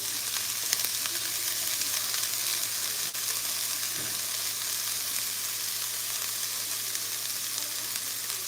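An omelet with onions and yellow pepper sizzles in a frying pan, giving a steady, fairly quiet hiss that carries on without a break and has no voices over it.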